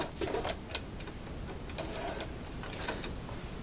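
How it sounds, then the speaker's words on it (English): Small plastic and metal clicks and taps of a bobbin being set into a home sewing machine, a few sharp close ticks in quick succession with soft handling noise between. "let me put this bobbin in real quick"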